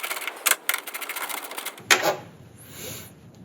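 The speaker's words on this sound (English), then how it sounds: "So let me get a ratchet on." Ratchet clicking in short bursts while 12 mm bolts are loosened from the air box of a 3.4L 5VZ-FE V6 Toyota 4Runner, Tacoma or Tundra, close to the mic, followed by a metallic clatter.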